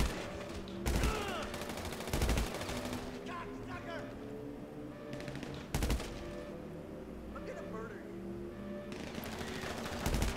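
Gunfire from Criminal Mastermind 3, heard as repeated loud, sharp shots and bursts spread through the scene, mixed with game background sound.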